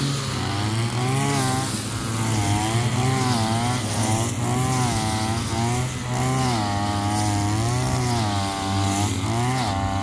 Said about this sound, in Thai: ครับเครื่องตัวเล็กนะครับเจอหญ้าหนานะครับตรงนี้หญ้าขึ้นเยอะนะครับ